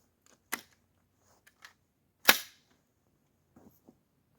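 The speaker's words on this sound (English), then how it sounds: "Let's take a few more shots." Rifle fitted with a magnifier scope firing: two sharp reports, the second louder and with a brief tail, plus a few faint clicks in between, with no talking.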